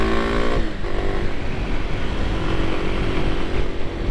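Kawasaki KLX 300 supermoto motorcycle ridden along, a loud close engine drone with a steady buzzing tone that rises briefly early on, mixed with wind noise.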